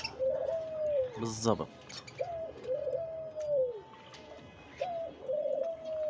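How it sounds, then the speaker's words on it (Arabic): Doves, a pigeon-family species, give repeated soft cooing calls in several phrases, with a brief flutter of wingbeats early on and someone speaking quietly in between. "اليمام من عائلة الحمام"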